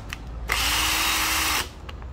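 Used Japanese 12V cordless drill, EZT 103 body with battery, runs in one steady high whir for about a second, close and loud, then stops.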